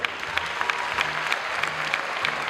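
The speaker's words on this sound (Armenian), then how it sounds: "ձեր ջերմ ծափարություններն եք ուզում լսել շատ բարձր" Audience applause fills the hall at a cultural organization's 15th anniversary concert, a steady crowd-wide clapping with sharp individual claps popping out, sustained and fairly loud throughout.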